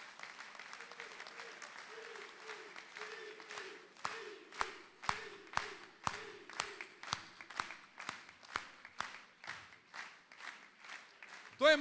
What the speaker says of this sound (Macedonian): Еден голем аплауз за него.